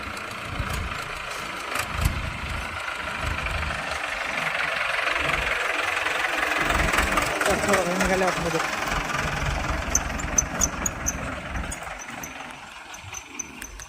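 A tractor engine chugs steadily nearby at a sugarcane harvest as trolleys are loaded, swelling slightly in the middle, with voices talking over it and a few knocks and clanks.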